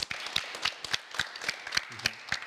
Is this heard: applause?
yes